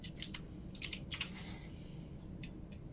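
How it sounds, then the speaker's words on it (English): A computer keyboard clatters with bursts of quick keystrokes, faint and a little distant over a low background hum, tapering to a single tap near the end. "your keyboard's too loud"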